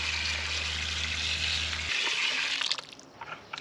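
Water pours steadily into a bucket of potting soil to flood it for a pepper and tomato planting, a continuous rushing gush that stops partway, leaving softer trickles and small splashes.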